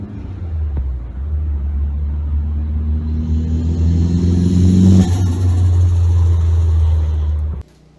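An SR20-swapped Nissan S14 240SX drives down the street with a deep, steady engine rumble that rises as it accelerates, close and loud, before cutting off abruptly near the end.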